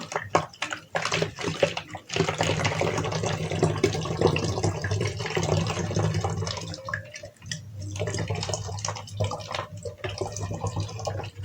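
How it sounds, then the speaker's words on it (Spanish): Water is poured through a funnel into a container for a chemistry experiment, a steady splashing, gurgling stream that runs close and fairly loud for the whole stretch, with brief breaks in flow. "Vamos a verter 3/4 partes de agua"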